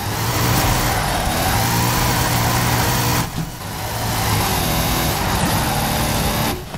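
A car engine in Forza Horizon 5 drifts in an S2-class race, roaring loud and close with rising and falling revs. Two short dips in the engine note sound like gear shifts or lifts off the throttle, and no one speaks.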